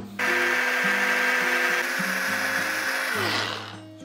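A blender whirs steadily as it re-mixes tarama made with smoked cod roe, a loud continuous motor hum with shifting pitch that winds down near the end.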